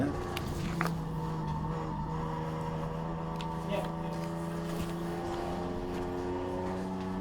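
Michael Howlett's race car on a red dirt track near Perth, an engine droning at steady pitch with shifting harmonics and occasional rises, heard at a moderate distance and continuous throughout.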